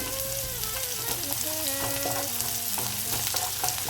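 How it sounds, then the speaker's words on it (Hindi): Dhaniya chicken sizzles and fries in a pan, with a dense, steady crackle and frequent scraping stirs, close and fairly loud, with no talking. "फ्राई कर लेते हैं। इसको ज़्यादा नहीं भूनेंगे,"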